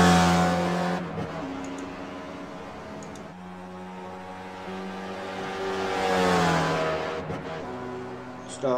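Race cars lapping a circuit during a 23-lap race, engines whining and revving as they sweep past, a pass-by swelling then fading, with a commentator talking over them.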